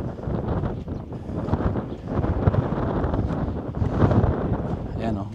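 Strong wind at Lake Tabeo in Kabayan, Benguet, a mountain lakeside camping spot, roars and buffets the microphone continuously with a loud, low rumble that swells slightly near the end.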